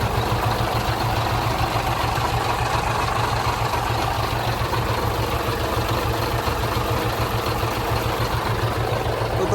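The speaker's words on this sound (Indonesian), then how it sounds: "mesinnya ngobos atau tidak, seperti apa kita lihat" A 2011 Hino FM 320 6x4 truck's diesel engine idles steadily up close, a constant low rumble with a regular throb and no talking over it.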